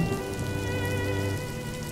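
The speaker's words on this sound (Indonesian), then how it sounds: "tetes-tetes hujan yang mengguyur tubuh mereka." Rain falls steadily on muddy open ground at an outdoor passion-play crucifixion reenactment attended by a large crowd in Ruteng, forming a continuous close wash of patter with a low rumble and faint tonal hum underneath, and no speech.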